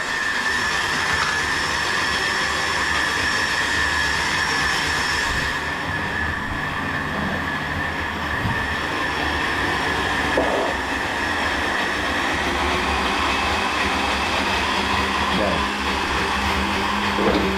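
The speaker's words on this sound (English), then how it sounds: "Let's blend it up." A blender runs steadily, blending a thick healthy ice cream mixture. The loud, continuous whirring motor hum holds close for the whole stretch, with slight shifts in pitch as the load changes.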